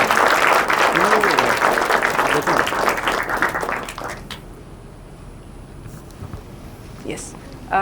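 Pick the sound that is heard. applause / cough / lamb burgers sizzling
applause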